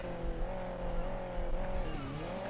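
A car in Hill Climb Racing 2 skids with a steady whining tire squeal over a droning engine, loud and continuous through the short stretch.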